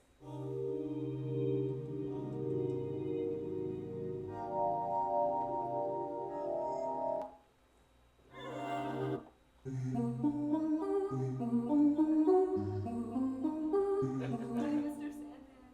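Arpeggiated Kontakt software instrument on the Augmented Voices patch: soft sustained layered tones with a rippling pattern of notes that drops out briefly, then returns busier and brighter.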